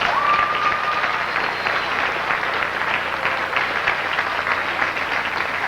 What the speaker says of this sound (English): Please give them a wonderful round of applause.